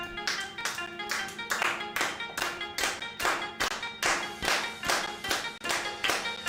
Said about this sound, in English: can I get a soul clap?